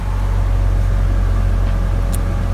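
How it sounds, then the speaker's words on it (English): A car engine drones steadily from inside the vehicle, a loud constant low hum with no talking. "Excuse the noise of my car."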